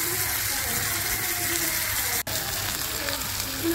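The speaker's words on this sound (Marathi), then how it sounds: "अशा प्रकारे आपण सगळे पापलेट फ्राय करून घेऊयात" Pomfret fish fries crisp in a pan, a loud, continuous, close-up hiss of spattering oil that barely varies, broken only by one split-second dropout midway.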